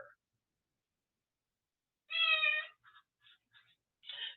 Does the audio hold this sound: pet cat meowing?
yes